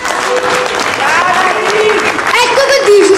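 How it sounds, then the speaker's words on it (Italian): Audience applause at a Neapolitan stage show, steady clapping lasting a few seconds, with a voice talking over it. "Facciamoli un applauso."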